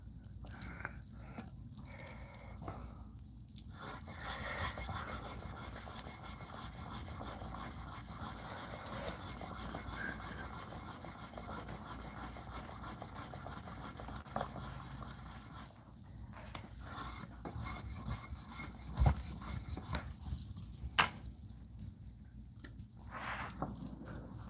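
A knife blade being sharpened, worked on a bevel with a flat spot, gives a steady rasping rub that runs for several seconds, stops briefly, then resumes in shorter strokes, close up with no talking.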